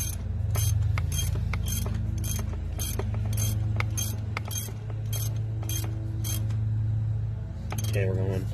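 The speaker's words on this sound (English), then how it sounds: "then I'll just pop it off and then put the ratchet on" A ratchet wrench clicks in quick, regular bursts while tightening an oil pressure sensor on a Chevy Silverado 2500HD, close-up metallic ticks repeating steadily over a low steady hum, with a brief clatter at the end.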